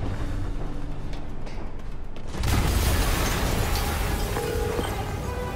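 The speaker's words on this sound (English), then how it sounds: "an explosion just... I saw it." A loud explosion erupts in the Marvel's Spider-Man video game, a sudden broad blast around the middle that leaves a sustained roaring rumble behind it.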